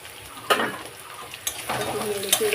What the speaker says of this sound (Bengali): ভেজে নেব আগে আলুগুলো এই পেঁয়াজ দিয়ে দিলাম কোটা পেঁয়াজ